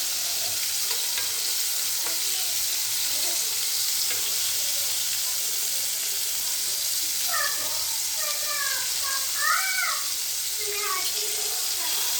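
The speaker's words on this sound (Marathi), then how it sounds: "छान आपले पापलेट फ्राय होते" Pomfret fish fries in oil in a kadhai with a continuous close hiss and crackle, steady throughout, while faint chirping sounds rise briefly near the end.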